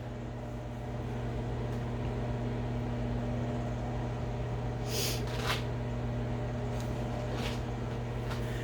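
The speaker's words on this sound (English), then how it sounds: "So we've got that in the microwave on high. We're going to cook that for 4 minutes." A microwave oven running on high while melting a peanut brittle mixture, giving a steady close mechanical hum with a strong low drone and a few brief clicks and rustles over it.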